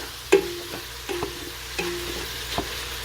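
Lasagna ingredients frying in a pan give a soft, steady sizzle, broken by a few light scrapes and knocks of a spoon stirring them at irregular intervals, close and quiet.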